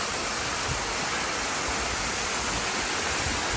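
Sandy Creek Falls (Tjaynera Falls) in Litchfield National Park pours as a steady, loud, broadband rush of falling water that is constant throughout, with no voices.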